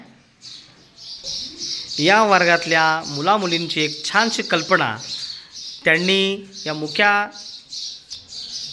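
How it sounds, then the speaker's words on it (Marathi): House sparrows nesting in a school classroom chirp busily and continuously nearby, a dense high twittering that carries on underneath a person speaking. "या आहेत आमच्या वर्गातल्या चिमण्या"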